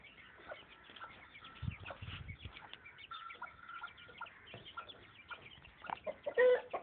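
Aseel hens and young chicks cluck and chirp in short, scattered calls at close range, with soft rustling and a brief flutter of movement among them.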